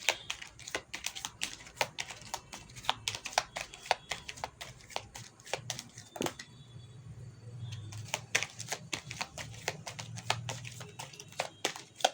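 Tarot cards being drawn from a deck, a quick series of soft, close card clicks and flicks, fairly faint, with a brief lull midway before the shuffling sounds resume.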